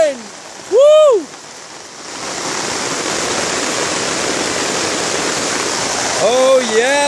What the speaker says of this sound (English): Bring the rain!